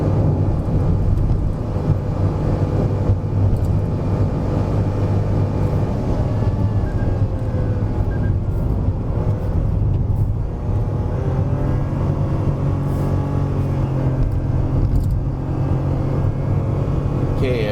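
A Perodua Ativa 1.0 Turbo strains flat out uphill on a Genting hill climb, its engine a loud, steady drone with rising tones as it builds speed, heard from inside the cabin without talk.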